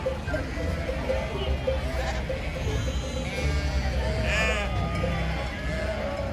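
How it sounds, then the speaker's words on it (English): Sheep bleat repeatedly amid a noisy outdoor crowd, with murmuring voices and street bustle throughout. "is there some symbolic value to seeing sheep in the streets?"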